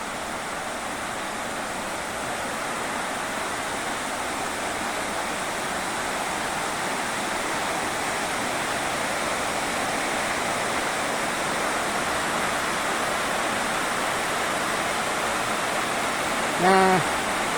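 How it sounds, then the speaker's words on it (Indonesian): Water of an underground river flows into a rock cliff cave at Teleng, Pracimantoro, a continuous broad rushing wash, even and steady throughout, with a brief faint knock near the end. "kelihatan air mengalir ke dalam tebing batu"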